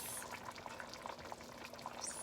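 Homemade chicken noodle soup bubbling in a pot, a quiet steady simmer of small pops and gurgles, faint and close, with no voices.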